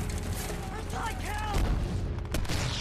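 Heavy gunfire and booming explosions in the war film The Pacific, at the Peleliu airfield battle, form a loud, continuous barrage with a surging blast near the middle while voices shout over it.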